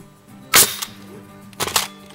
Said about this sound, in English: Now we're gonna tack it with our nail gun